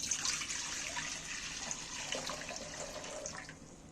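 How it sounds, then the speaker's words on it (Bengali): Tap water pours steadily over red lentils being washed for a Bengali lentil dish, a continuous soft splashing and gurgling that carries on alone and fades slightly toward the end. "ডালে আমি জল দিয়ে দিচ্ছি ডালটাকে ভালো করে ধুয়ে নেব"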